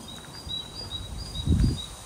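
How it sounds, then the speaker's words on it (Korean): Faint, high-pitched bird chirps repeat at a steady pace against a soft, windy outdoor background at a mountain temple in Miryang, South Korea, with a few low thumps midway. "새소리가 너무 이쁘네요."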